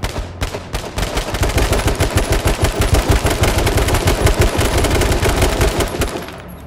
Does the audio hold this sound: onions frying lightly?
no